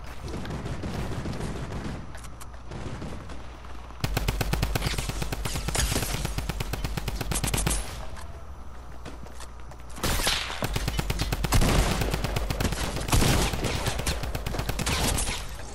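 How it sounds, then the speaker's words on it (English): A drum gun in Fortnite sprays rapid, rattling bursts of automatic fire, long stretches of fast clattering shots broken by brief pauses, loud and close throughout with no talking. "You want me to demonstrate to y'all why you should not have brought the drum gun back?"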